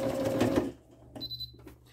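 A Singer QS 9960 computerized sewing machine sounds its upper thread warning alert: a brief high electronic beep tone, clear and close, following a short burst of motor noise.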